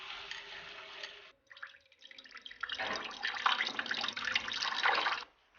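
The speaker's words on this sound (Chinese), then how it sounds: "抓完用清水冲洗干净。" A tap runs over salted, finely shredded pomelo peel as it is rinsed clean in a kitchen, a soft, close splashing that starts, pauses briefly and then resumes as a fuller stream before cutting off.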